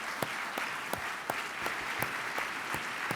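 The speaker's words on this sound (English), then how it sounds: "let's give them a round of applause" Audience applauding a panel at a cyber innovation event, a soft steady patter of many hands clapping with a few sharper individual claps standing out, fairly distant and even throughout.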